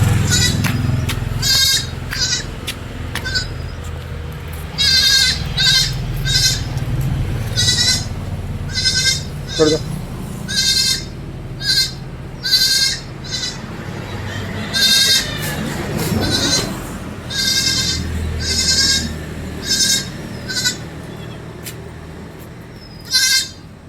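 Dairy goats and kids bleat loudly again and again in short, wavering calls, several animals overlapping, with farmyard background noise between them.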